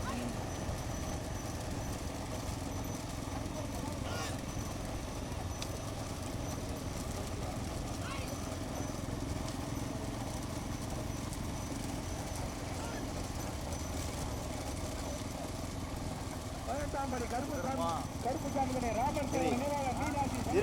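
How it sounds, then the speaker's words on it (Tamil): Bulls' hooves thud in a rapid clip-clop during a bullock cart race at a village event in Tamil Nadu, heard under continuous loud commentary and crowd noise, with a steady rumbling background throughout. "முதல் சுற்று மாட்டு வண்டி பந்தயத்தில்"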